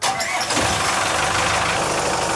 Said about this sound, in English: So I'll get the engine fired up right now